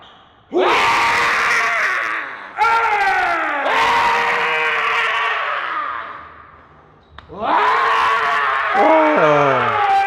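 Strongman's loud, strained yells during a heavy lift of around 600 kilos, three long roaring bursts with brief pauses between them, close and harsh, rising and falling in pitch with a crowd-like roughness.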